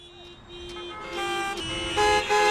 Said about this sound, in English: Welcome to the honking capital of the world.